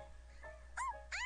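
A dog whimpering in a video game, faint high whining yelps rising in pitch, two or three short cries over a quiet low hum.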